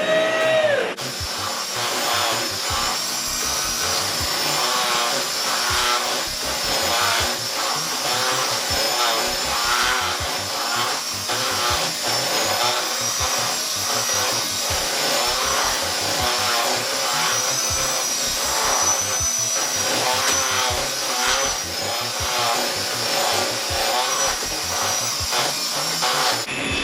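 An electric mixer beats cream cheese, butter, egg, sugar and vanilla for a cheesecake filling, giving a loud, steady motor whir with a rattling texture that runs unbroken for almost half a minute.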